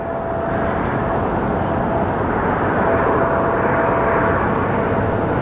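Steady broadband roar of an airliner jet at Phoenix Sky Harbor Airport, holding a constant loud level throughout with no pauses, distant engine rumble spread evenly across the whole span.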